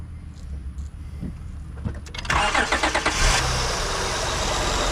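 A 2006 Acura TL engine, fitted with a new belt and idler pulley, cranks and catches, then settles into a smooth, steady idle close by with no talk.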